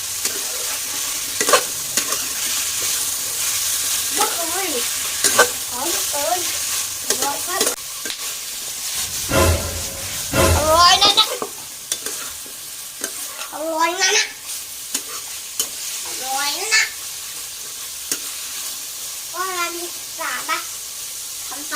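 Chicken giblets and cauliflower being stir-fried in a pan, with a constant sizzle and repeated scraping stirs of a utensil, plus a brief louder clatter midway; someone talks intermittently over the cooking.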